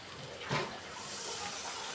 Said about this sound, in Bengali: সামান্য জল দিয়ে দিলাম এর মধ্যে